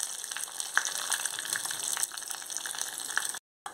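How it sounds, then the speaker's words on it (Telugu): Chana dal, dried red chillies, curry leaves and asafoetida sizzle and crackle in hot oil as a tempering for tomato chutney, a soft steady hiss with small pops that breaks off abruptly near the end. "పోపు ఎగిపోయింది."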